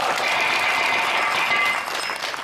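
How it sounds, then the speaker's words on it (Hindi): Audience at a Holi gathering clapping for a named person, a continuous burst of applause held at even loudness, then easing slightly at the end. "एक बार बाबू राम कैलाश के नाम पर ताली हुई जाती बढ़िया"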